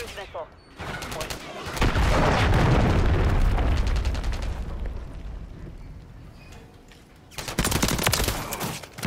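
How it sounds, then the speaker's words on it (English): Heavy gunfire and booming blasts in a Modern Warfare 3 multiplayer match, a shotgun among them, with a loud sustained barrage early on, a quieter rumbling stretch, then another burst of rapid shots near the end. "That's called a shotgun."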